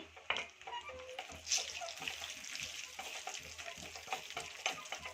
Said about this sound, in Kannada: ಹಾಕ್ಕೊಂಡು ನೋಡಿ ಚೆನ್ನಾಗಿ ಫ್ರೈ ಮಾಡ್ಕೊಳ್ಳೋಣ ತುಪ್ಪದಲ್ಲಿ.